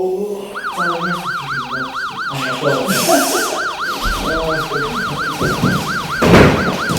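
A loud wailing police siren cycles rapidly up and down, close by, with traffic rumble underneath.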